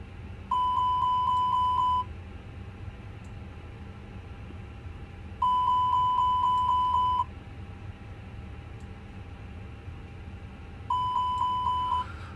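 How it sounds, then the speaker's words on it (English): Fire alarm test in a Fenix A320 flight simulator cockpit: a rapid pulsing chime with a higher steady tone sounds three times in bursts of about two seconds, separated by gaps of low cockpit hum. "And we can test our fire alarms."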